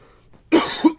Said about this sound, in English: I was about to say, I haven't coughed in a while.